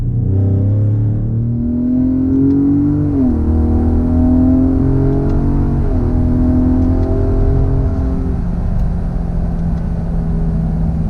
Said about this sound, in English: you definitely hear a ton of turbo noise with this